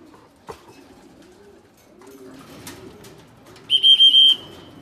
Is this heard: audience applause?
no